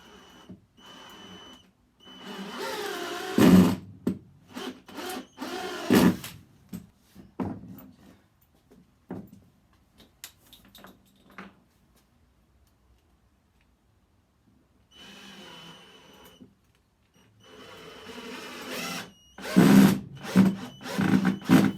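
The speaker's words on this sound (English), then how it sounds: "put screws in on an angle into the wood so that they are attaching both of those 2x6s together" A power driver sends screws at an angle into wooden 2x6 boards for an upholstered headboard frame, in several whirring bursts separated by quiet pauses, close and moderately loud.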